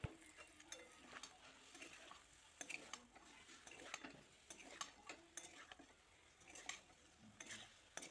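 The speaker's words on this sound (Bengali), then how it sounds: "সবগুলো উপকরণকে একসঙ্গে খুব ভালোভাবে মিশিয়ে নিব" A spoon stirs potato and cauliflower curry together in a pan, giving soft scraping strokes and light clinks at an irregular pace over a faint sizzle, close and quiet, with no voices.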